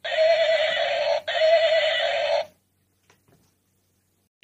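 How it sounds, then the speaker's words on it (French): A toy sound-book horse neighs in one loud electronic whinny, briefly broken midway and lasting about two seconds, followed by near silence. "Cheval."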